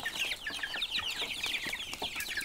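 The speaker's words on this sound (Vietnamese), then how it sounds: "Hiện đàn gà nhà anh Biên đã lên tới hơn 500 con" A flock of more than 500 farm chickens raised on earthworms clucks continuously, with overlapping calls from several birds, some close, some farther off, and no talk.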